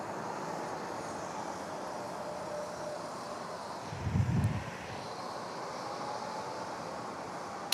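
An aircraft lands near an aviation college in New York City at dusk. A steady, fairly faint engine roar fills the air, with a low rumble swelling briefly midway.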